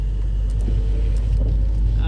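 A BMW 3 Series with an N47 diesel engine and a bad, seized turbo idles with a steady, loud, low rumble that continues without change and without any talk over it.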